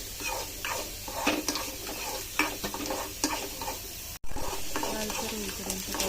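Onion sautéing in hot oil in a wok for a crab masala, a steady close sizzle broken by repeated scraping stirs of the spatula, with one brief cut in the sound.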